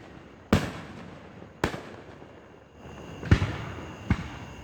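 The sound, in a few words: fireworks exploding at 4th of July show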